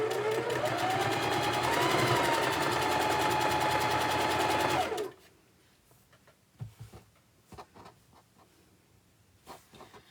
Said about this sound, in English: I don't usually show you the sewing part.